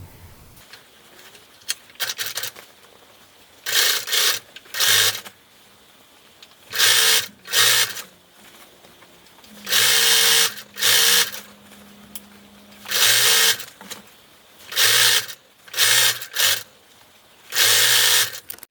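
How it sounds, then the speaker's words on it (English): Sewing machine stitching over a folded fabric edge on a Halloween fabric bucket, running in loud repeated bursts of whirring, some short and some a couple of seconds long, separated by brief pauses. "then you can just sew over it and close that hole"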